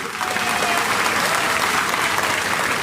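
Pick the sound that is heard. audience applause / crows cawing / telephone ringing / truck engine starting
audience applause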